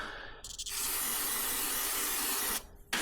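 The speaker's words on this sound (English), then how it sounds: "I'm gonna use carb cleaner." Carb cleaner sprayed onto a snowblower disc: a steady, loud, close aerosol hiss lasting about two seconds, preceded by a brief short spurt and ending abruptly.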